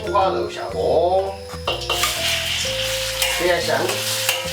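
Sliced skinless pork belly hits a hot wok and sizzles loudly, with clattering spatula strokes and metal scraping over a constant frying hiss; a voice speaks briefly in the middle.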